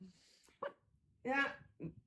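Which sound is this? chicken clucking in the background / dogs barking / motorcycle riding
dogs barking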